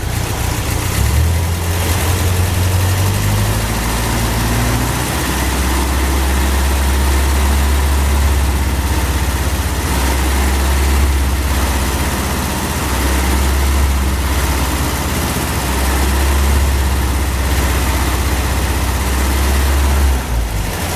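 An MGB engine fitted with a Weber dual progressive downdraft carburetor, held at about 2000 RPM, giving a steady, even mechanical drone close by after a short rise in revs, with no talking.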